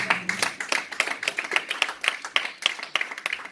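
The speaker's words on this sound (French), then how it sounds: "Acclamons très fort le Seigneur." Congregation at a French-language charismatic prayer service clapping together in steady rhythmic applause, a crowd of hands close and lively, with a few faint voices underneath.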